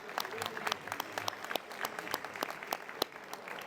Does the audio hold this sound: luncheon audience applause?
yes